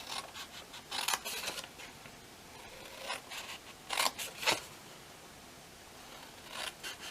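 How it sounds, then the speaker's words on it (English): Scissors snip and slide through paper along score lines in a crafting session, with intermittent crisp cuts and rustles, close but fairly soft over a faint background hiss. "I'm just going to cut up all the score lines first."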